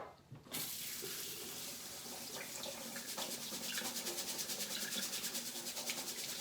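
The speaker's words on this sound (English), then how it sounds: "I like to rinse my rice just to get the starches off. So I'll give it a quick rinse under water." Running tap water pours steadily as rice is rinsed under it in a kitchen, a loud continuous splashing rush with a faint rhythmic sloshing of grains being stirred, close by with no voices.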